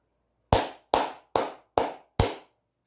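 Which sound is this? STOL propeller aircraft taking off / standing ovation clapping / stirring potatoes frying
standing ovation clapping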